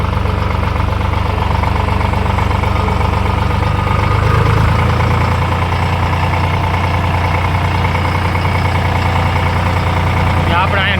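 A tractor engine idles loudly and close by in a steady, rumbling drone with a slight knocking pulse that runs throughout, with a person talking over it.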